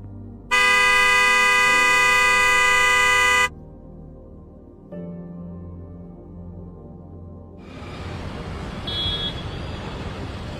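A single loud, sustained vehicle horn blares for about three seconds at a busy Jaipur traffic intersection, followed by a steady rumble of passing road traffic.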